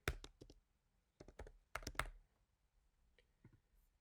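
Computer keyboard keys typed while writing HTML code, close and crisp, in three quick bursts of clicks followed by a few sparse taps.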